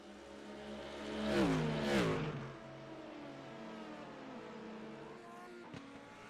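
Sports cars race past on a circuit, LMP prototypes and GT cars, with loud engine notes rising and falling in pitch as two cars sweep by close at about the first two seconds, followed by a steadier, more distant drone of engines around the track.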